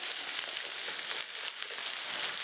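Onion petals and Vietnamese tofu fry in a generous amount of oil in a pan, giving a continuous, even, close hiss and crackle with no voices.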